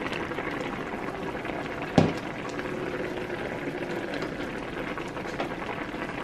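A pot of adobong sitaw with ground beef boiling steadily, a continuous bubbling simmer with one brief louder clack near the start, no voices.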